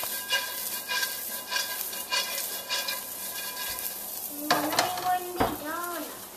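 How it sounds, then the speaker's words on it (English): A pine nut, golden raisin and vegetable mixture tossed in a hot pan, with a steady low sizzle under repeated scraping and stirring strokes, then a louder burst of clatter near the end. "We're going to toss the whole mixture."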